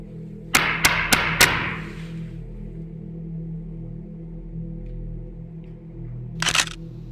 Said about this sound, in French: Si je tape, est-ce que vous pourriez refaire le même bruit que moi ?